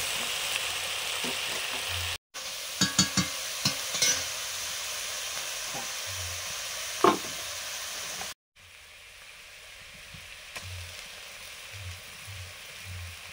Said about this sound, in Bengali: এবারে কিছু সময় মশলাগুলো কড়াতে নাড়ার পরে এই মশলার সঙ্গেই মাংসটা কষানো হবে।